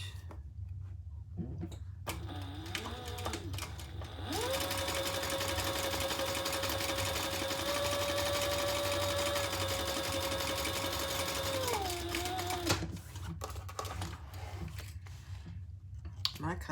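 A sewing machine top stitching a crossbody bag runs in one steady whirring stretch of about eight seconds, with rustling handling and brief clicks before and after.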